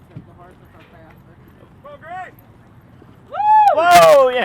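Horses run in a speed-series race, with faint hoofbeats under a busy, murmuring background before loud, wavering voice-like calls rise toward the end.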